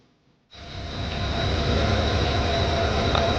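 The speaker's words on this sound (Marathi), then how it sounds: "लोणावळा ते देऊ रोड लोकल ट्रेनचा प्रवास" A local train between Lonavala and Dehu Road rumbles in loudly after a brief quiet moment, a steady roar of wheels and carriage noise with a faint high whine above it.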